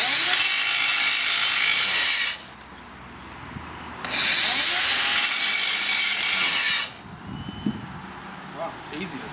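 A Makita 40V 9-inch brushless angle grinder runs loud and steady for about two seconds, drops off, then runs again for nearly three seconds before stopping, each run cut short as if stalling under load.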